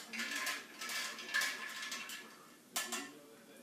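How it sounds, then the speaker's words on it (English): A spoon stirs a cocktail of orange and pineapple juice over ice in a cup, giving close, light clinks and rattles in uneven bursts, with a sharper knock near the end. "We're going to stir it up"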